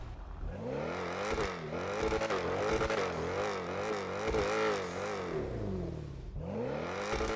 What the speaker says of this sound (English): this is what a Bugatti is supposed to be and it's supposed to sound like.